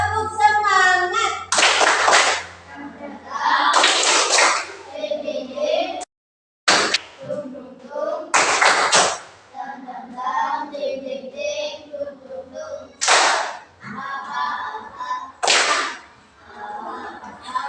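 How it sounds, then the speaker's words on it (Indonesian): Schoolchildren in a classroom perform a rhythmic patterned clap, sharp close bursts of hand claps in groups separated by short chanted or spoken bits, repeated several times. "Coba tepuk semangat dulu. Tepuk semangat."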